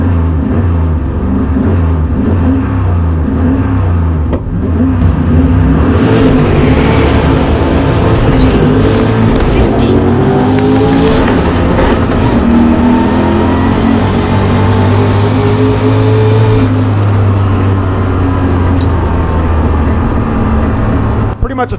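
A 363 turbo Fox Body drag car making a pass at an NMRA drag race, its loud engine roaring and climbing through gears for about twenty seconds with a steady, powerful drone.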